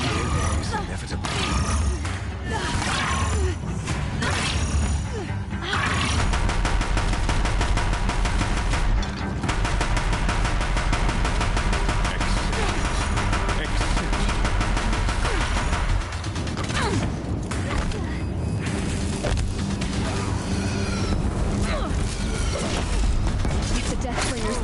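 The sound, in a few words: Deathbringer machines firing in Horizon Zero Dawn video game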